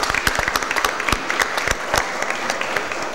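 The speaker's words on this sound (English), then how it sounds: "Let's give Ms. Price a round of applause," A city Board of Aldermen chamber breaks into a short burst of applause for an honored guest, dense sharp claps from a modest crowd close by, with no talking over it.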